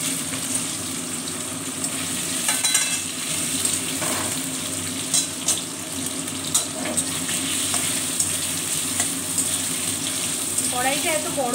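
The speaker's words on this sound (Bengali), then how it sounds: "এবার আমি পনিরগুলোকে ভেজে নেব, হালকা করে ভাজবো" Paneer cubes fry lightly in hot oil in a kadai for an aloo paneer curry, giving a continuous, even sizzle with occasional crackles and spatters that stays close and steady throughout.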